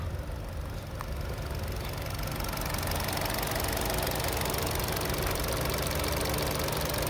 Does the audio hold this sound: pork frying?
no